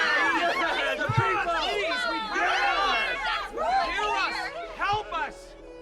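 An assembly crowd in the video game Honkai: Star Rail chatters and murmurs together, many overlapping voices rising and falling in waves, fairly close and lively throughout.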